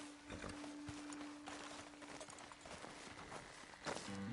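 Horse hooves clip-clopping in Red Dead Redemption 2 on a western trail near a road ledge, a faint, uneven series of soft hoof thuds over a quiet ambient backdrop with a low steady hum.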